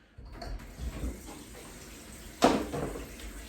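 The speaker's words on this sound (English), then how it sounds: "So I'm going to just run a sink" A kitchen sink fills with running tap water for washing up, a soft steady stream with a sharper splash midway, fairly quiet throughout.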